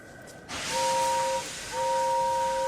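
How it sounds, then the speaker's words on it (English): A steam locomotive whistle blows two long, steady blasts with a short break between them, loud over a background hiss of escaping steam. "At last Gordon heard the whistle."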